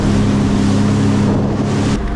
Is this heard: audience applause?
no